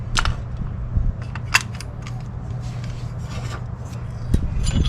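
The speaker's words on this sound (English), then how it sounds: "So I'm going to squeeze my piston back in. Use my piston compressor." Brake caliper piston on a 2016 Toyota Sienna SE rear brake being pushed back with a piston compressor, giving steady low rubbing and scraping with a few sharp metallic clicks over a continuous low hum.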